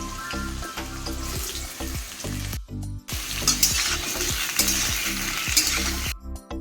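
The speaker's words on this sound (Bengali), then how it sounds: "আর এখানে রান্না বসিয়ে দিয়েছি, তেল তেতে গেছে।" Oil sizzles loudly in a pan on a home stove while a utensil stirs and scrapes through it in a steady rhythm, with two brief pauses where the sound cuts out.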